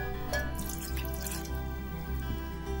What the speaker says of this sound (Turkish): İlk önce suyumuzu ilave ediyoruz.